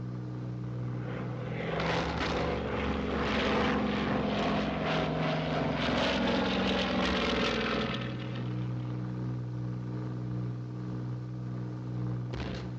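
Droning propeller engine of a WWII RAF aircraft in a steep dive, loud and continuous, swelling into a rougher roar midway before settling back to a steady hum, with no voices.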